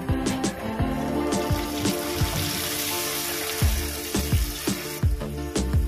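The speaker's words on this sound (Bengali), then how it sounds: "এবার আমি জল দিয়ে দেব।" Water poured into spice paste frying in oil in a pan for a Bengali katla fish kalia, giving a steady hissing, bubbling sizzle broken by sharp spits and crackles.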